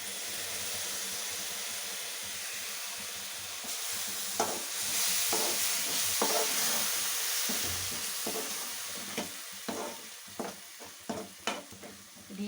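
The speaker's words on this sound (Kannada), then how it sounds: "ಹೀಗೆ ಸ್ವಲ್ಪ ಹೊತ್ತು ಫ್ರೈ ಆಗಿ." Tomato paste and garam masala fry in a pan for brinjal curry, giving a steady, soft sizzle close by, with stirring scrapes and taps that grow more frequent toward the end.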